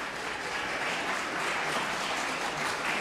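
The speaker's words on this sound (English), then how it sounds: "Worthy of a clap." An audience at a policy forum on the Middle East applauds, a steady, even wash of many hands clapping with no voices over it.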